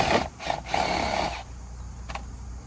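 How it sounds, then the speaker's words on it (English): A power drill boring a hole through the front bumper of a Dodge Challenger Hellcat, a close whirring grind in short bursts that stops partway, followed by quieter handling noise and a brief knock. "basically drill a hole here through the bumper"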